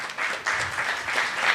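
Audience applause at a Japan festival celebration, honoring the parents: a steady, moderately loud wash of clapping with a brief dip before swelling again.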